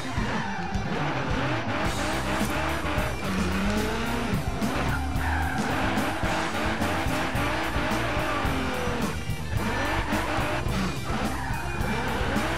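Tires squeal and skid as a car drifts on the handbrake in the racing game Forza Horizon, a continuous loud screech over revving engine noise with music running underneath.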